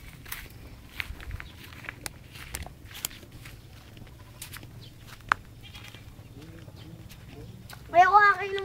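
On a farm, a goat gives a short, clear bleat near the end, after quiet shuffling footsteps and light rustling. Faint voices sound in the background.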